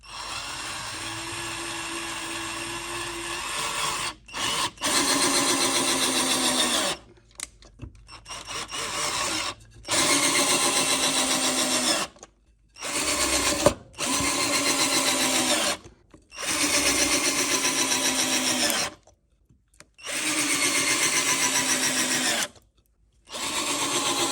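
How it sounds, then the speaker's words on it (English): A Harbor Freight Warrior 12V lithium cordless drill drives screws into a 2x4 of wood in repeated bursts of loud, close whirring lasting a few seconds each, separated by short pauses, with no talking. "just screw them right into this side all the way down"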